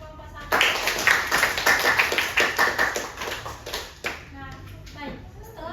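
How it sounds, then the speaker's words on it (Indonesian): Students in a biology classroom clap for a presenting group, giving a run of quick, fairly loud handclaps in a steady rhythm that stops abruptly, with a voice and classroom chatter mixed in near the end. "Beri tepuk tangan untuk kelompok 1"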